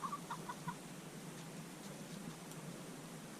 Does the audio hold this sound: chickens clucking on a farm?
yes